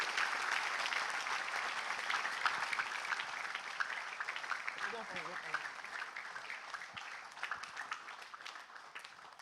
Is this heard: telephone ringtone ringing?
no